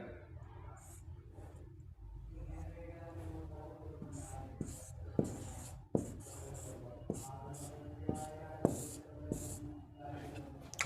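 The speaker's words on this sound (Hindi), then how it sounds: "पहले समझ लें उसके साथ साथ लिखते चलेंगे" Marker or pen writing on a board or paper during a Hindi language lesson, a steady scratchy stroking with several sharp taps spaced through it, fairly close and continuous.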